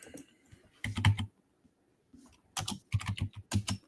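Quick bursts of clattering keystrokes on a computer keyboard, close and crisp, separated by short pauses with no talking.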